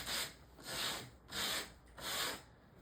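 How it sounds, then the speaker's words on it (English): Sandpaper rubbed along the edges of compressed book board, four steady rasping strokes in an even back-and-forth rhythm, close and clear with no talking. "I'm just going to use this sandpaper here. Just want to smooth these edges"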